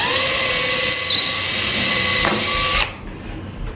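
A power drill boring a hole for a pencil in a part of a portable robot sumo table, a loud, steady, high-pitched whine that runs nearly three seconds and then stops abruptly.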